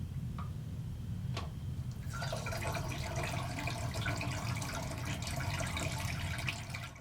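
Film developer is poured out of a developing tank, starting with a couple of faint clicks before a steady, close splashing gush of liquid that runs for several seconds.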